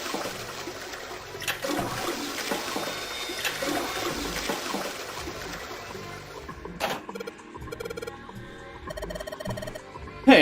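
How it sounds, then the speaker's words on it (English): Toilet flushing in the video game Zero Escape: 999, a long rushing swirl of water that fades into trickling, followed by a second abrupt burst of water noise near the end. "I heard a flushing noise, not that."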